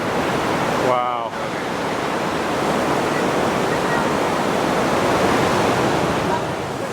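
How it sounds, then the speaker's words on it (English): Swollen by recent rain, a waterfall in Ouray, Colorado roars as a loud, steady broadband rush throughout, with a brief voice near the start. "we've made it to the waterfall. And let me tell you, it's angry."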